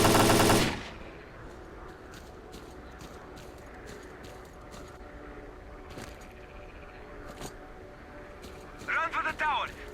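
Gunfire in the shooter game STALKER Clear Sky comes as a loud burst at the very start, followed by scattered fainter shots and clicks over quiet ambience, with brief voice-like bursts near the end.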